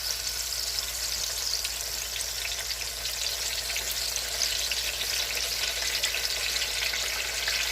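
Sliced sweet plantains, wet from sitting in water, sizzle and fry in hot oil with a steady, dense crackle that runs loud and unbroken throughout, with no talking.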